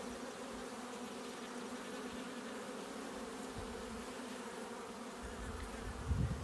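Honeybees from a newly installed package colony drone steadily during a hive inspection, a close, continuous buzzing swarm sound that swells slightly near the end, with no voices.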